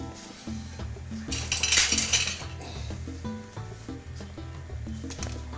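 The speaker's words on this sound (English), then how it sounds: "I'm just going to stir it up right quick for you so you can see how it just goes right in there, right into the rest of your juice" A spoon stirs banana into freshly made juice in a container, giving repeated close clinks and scraping knocks against the sides, with a brighter rattling burst in the middle.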